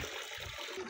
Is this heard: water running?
yes